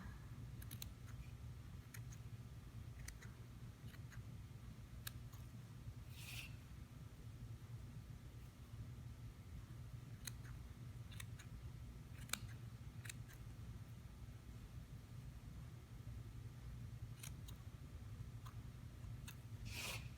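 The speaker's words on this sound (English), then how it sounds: "we're going to snip them all so that the ends are even" Small scissors snip the ends of a craft tassel for a faux stained glass bookmark, giving a string of sharp, quiet clicks at irregular intervals over a steady low background hum.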